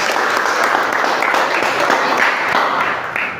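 Brief burst of applause from students in a chemistry classroom, steady and fairly close, fading slightly at the end.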